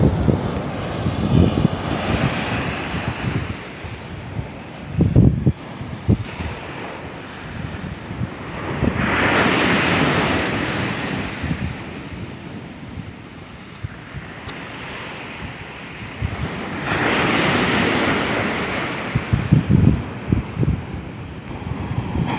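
Sea waves roll in and break on the shore under gusting wind, with surges swelling and fading in slow cycles and bursts of wind buffeting the microphone between them.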